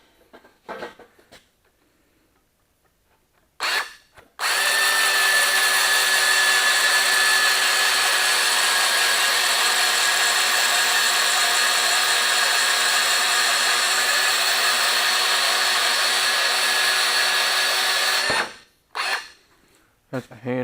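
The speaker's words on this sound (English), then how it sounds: "That's a handy little bandsaw." A small bandsaw cuts through steel plate for a manure fork bucket tooth, a loud steady whine lasting about fourteen seconds, with brief clanks and handling sounds before and after the cut.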